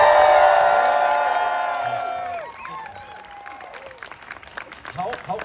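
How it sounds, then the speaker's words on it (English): A tennis crowd at the Laver Cup applauds and cheers for Rod Laver, with loud whoops and shouted voices that fade into steady clapping and scattered cries. "One round of applause for the great Rod Laver."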